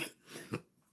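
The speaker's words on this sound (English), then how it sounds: "which makes me cough" A person with a congested, stuffed-up nose coughs a few short, soft times up close, with brief quiet gaps between the coughs.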